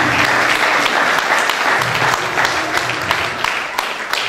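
A church congregation applauds steadily during a praise service, dense clapping that stays loud and unbroken throughout with a faint crowd murmur beneath.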